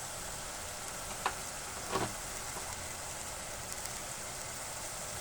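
Ground spices, chilli, cumin, coriander and turmeric, sizzle in hot oil in a pan for palak paneer, a steady close frying hiss with a couple of brief stirring clinks.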